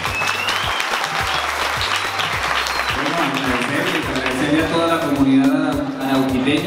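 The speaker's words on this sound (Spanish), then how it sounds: "Recibamos con un aplauso a Wilfredo Gómez." A crowd at a political event in Arauca, Colombia applauds steadily throughout, loud and sustained, with an amplified voice speaking over the clapping and some music-like tones joining toward the end.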